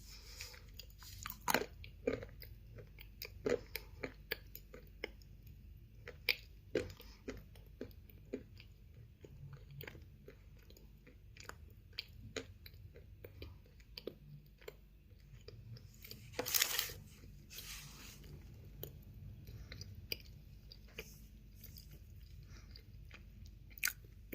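Close, crisp crunching and chewing of something hard and brittle, irregular bites and grinding with brief pauses between, no talking.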